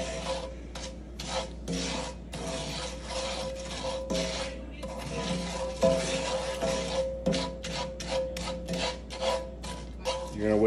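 A spoon scrapes and rasps steadily around a pot while water and cinnamon are stirred for keto candied almonds, giving repeated rhythmic strokes broken by short pauses, close and moderately quiet.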